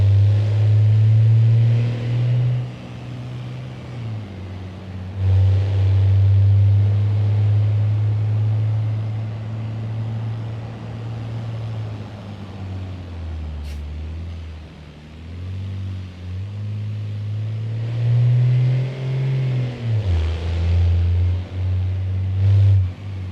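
Big custom truck's engine in BeamNG.drive, a deep low rumble that idles, revs up and settles repeatedly, close and steady with no talk.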